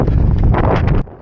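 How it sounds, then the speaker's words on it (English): Heavy wind buffeting the microphone as a runner heads away from town during the Brighton Marathon 2024, a loud broadband roar that stays steady for about a second before suddenly dropping to a quieter rumble. "The wind definitely playing a factor as we head away from town"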